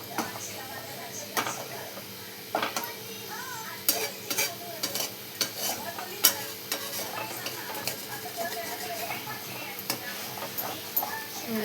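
Spatula scraping stuck egg bhurji off the sides of a frying pan, with repeated sharp scrapes and clicks over a low steady sizzle, close and fairly loud, with no one talking.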